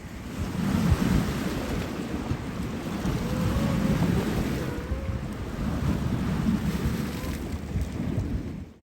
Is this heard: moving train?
no